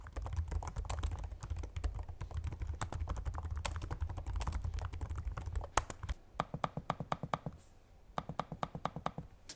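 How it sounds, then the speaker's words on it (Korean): Typing on the keyboard of a Samsung Galaxy Book3 Ultra laptop, a fast close run of light clicky keystrokes, then slower separate taps after a short pause. "그리고 키보드도 보통의 노트북들에서 느낄 수 있는 타건감입니다."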